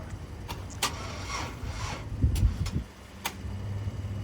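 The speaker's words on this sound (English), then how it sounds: "So we're gonna hold the revs up a little bit and try to crank it up." A 2008 Chevy Express van's V6 cranks without catching, a few uneven bursts of starter whir and clunks over a low rumble, close by and fairly loud.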